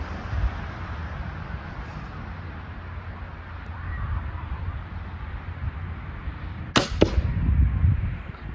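A Barnett Recruit Blackcat crossbow fires a broadhead arrow at a target, one sharp loud snap of the string followed by a thudding impact, set against outdoor wind rumble.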